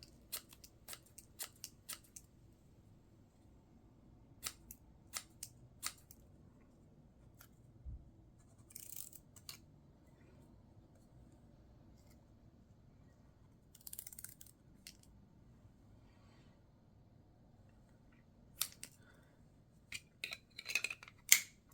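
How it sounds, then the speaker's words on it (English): Engineer brand Japanese scissors cutting paper, a series of short crisp snips in quick clusters spread over about twenty seconds, separated by near-silent pauses over a faint steady background hum; no talking. "can these engineer scissors cut paper?"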